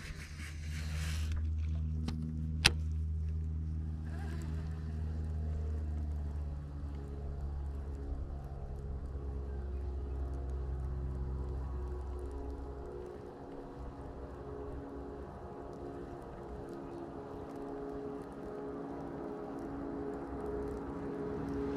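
A jet ski passes on the California Delta waters during a bass fishing outing, its engine a steady droning hum that rises and then gradually fades as it moves off, with wind and water noise around it and no talking.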